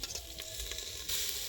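Washed snail meat stirred into hot masala in a pan for a Santhal tribal snail curry, giving a steady close sizzle with scraping, clicking stirs from a spoon against the pan, busier and louder toward the end, with no talking.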